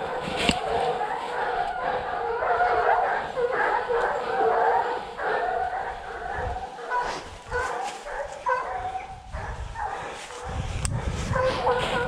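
Hunting dogs bark, yip and whimper in bursts during a wild boar hunt in the countryside, fairly close and loud, mixed with someone talking.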